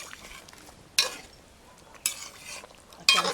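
A spoon stirs Jamaican brown stew chicken in a pot with three quick, close scraping strokes spaced about a second apart, the sauce faintly bubbling between them.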